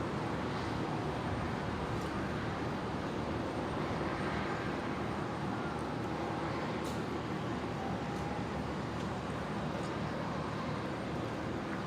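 Dash 8 turboprop at Brisbane International Airport producing a continuous broadband engine roar, steady and moderately loud throughout, with no voices.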